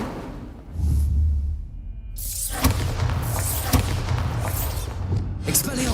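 In Hogwarts Legacy, the Incendio fire spell bursts with a sudden whooshing flare and a few sharp booming cracks, loud and close, after a deep low hum; a voice calls out just before the blast.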